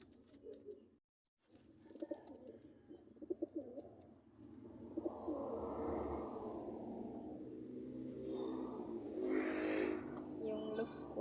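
Pigeons coo softly in a backyard loft, low throaty calls rising and falling over faint background hum, with a brief silence near the start and quiet voices in between.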